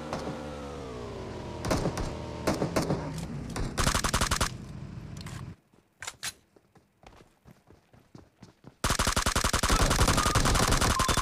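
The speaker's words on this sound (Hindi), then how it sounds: "यहाँ पे मेरे को बंदे की साउंड आ गई फाइट की" Gunfire crackles in a PUBG fight, with sharp single shots and rapid bursts coming in clusters, then a long, dense, loud stretch of sustained automatic fire at the end.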